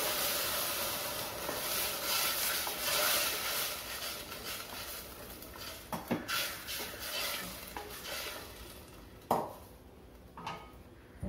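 Soaked and cooked field beans are stirred into a sautéed tomato mixture in a pan, with a soft sizzle, scraping spoon strokes and a few sharp clinks against the pan, close and fairly quiet.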